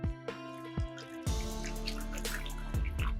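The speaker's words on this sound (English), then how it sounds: "I'm going to begin by adding in 2 cups of water" Two cups of water pour into a pot for lemon ginger tea, starting with a few drips and then becoming a steady close splashing stream that runs on quietly to the end.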